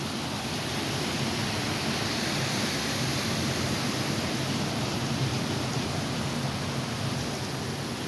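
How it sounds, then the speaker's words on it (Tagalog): Heavy rain pours down in Dubai on a flooded morning, a dense, constant roar of rainfall filling the whole stretch without a break. "Malakas po ang ulan ngayon"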